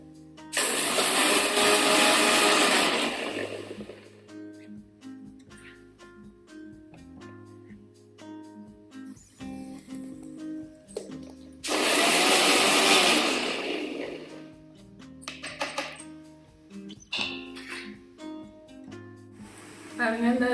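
A kitchen mixer grinder whirs loudly while blending tamarind and dried chillies into chutney, running in short bursts of a couple of seconds each with pauses between, while a person talks over the quieter gaps.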